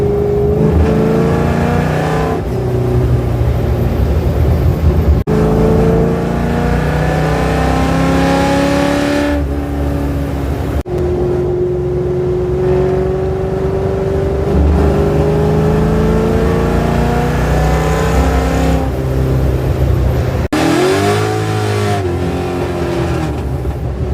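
Car with custom tailpipes revving loudly and accelerating around 3,000 RPM, a rowdy, mean engine note rising and falling in several long sweeps, up close and continuous with no talking.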